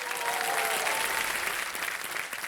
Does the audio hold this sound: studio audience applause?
yes